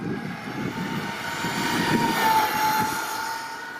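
A JLB Racing Cheetah Extreme 120amp RC car makes a speed run outdoors, with a steady, loud motor whine and wind rush that swells and fades slightly as it passes.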